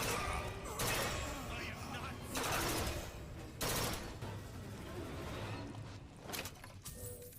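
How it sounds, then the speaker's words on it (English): Carbine fire in BioShock Infinite comes in repeated rapid volleys, loud and close, with a voice talking over parts of the shooting. "I don't want to shoot like this using my carbine"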